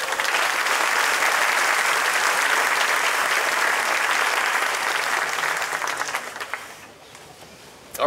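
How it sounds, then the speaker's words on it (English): A large crowd at a scholastic sports association fish fry applauds the students with dense, sustained clapping that fades out toward the end. "I want to ask one more round of applause for all the students."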